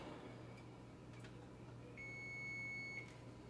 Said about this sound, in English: our timer is going off